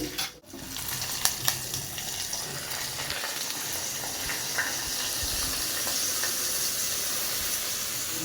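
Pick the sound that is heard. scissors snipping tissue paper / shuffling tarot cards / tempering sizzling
tempering sizzling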